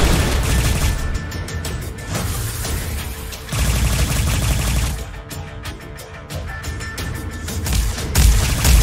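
Rapid turret gunfire and booming explosions from the space combat game Silverwing, loud and dense throughout, with bursts of crackling shots and heavier blasts swelling and dipping in waves.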